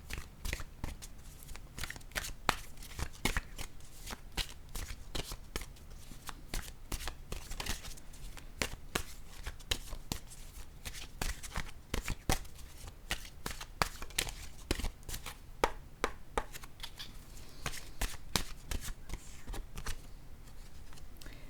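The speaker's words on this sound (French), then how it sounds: "Je vais plutôt piger une nouvelle carte," Oracle cards are shuffled continuously for over twenty seconds, a dense, steady run of crisp riffling and slapping with no talk over it.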